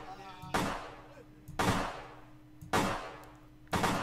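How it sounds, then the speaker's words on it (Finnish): Four single gunshots in the video game Vampire: The Masquerade, loud sharp reports spaced about a second apart, each decaying quickly, with a steady low hum beneath. "tää aseella ampuminen on ihan syöpää tässä"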